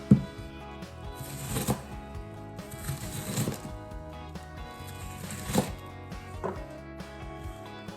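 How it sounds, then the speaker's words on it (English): A knife chops an onion on a board in uneven bursts of crisp cuts, some strokes sharper than others, over a faint musical backdrop. "a nice little tip on cutting onion"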